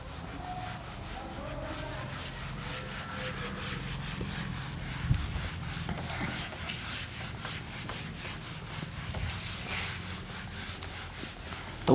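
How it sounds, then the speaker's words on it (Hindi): An object is rubbed steadily to build up a static charge by friction, giving a continuous close scratchy rubbing sound that runs the whole time, with a brief knock partway through. "तो मैं इसको रब करता हूँ।"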